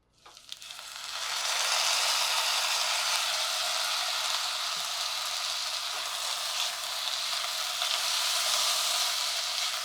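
Vegetables sautéing in a pan for masale bhat give off a steady, loud sizzle that starts abruptly and holds evenly throughout, with faint scraping underneath.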